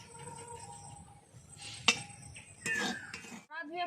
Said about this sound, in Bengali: দেওয়ার পরে সঙ্গে সঙ্গে নাড়তে হবে, না হলে কড়াই লেগে যাবে